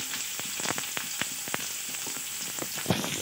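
Chopped onion fries in a pan with a steady, close sizzle and hiss, broken by frequent sharp pops and crackles and a louder spatter near the end, with no voices.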